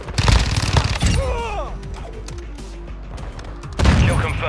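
Rapid automatic gunfire in Call of Duty: Modern Warfare 2, likely a Fennec 45, with loud bursts at the start and end and quieter mechanical clatter and tonal game effects in between.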